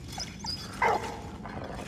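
A dog barks and yips in the World War I video game Valiant Hearts: The Great War, a short bark followed by whimpering calls over a low game background.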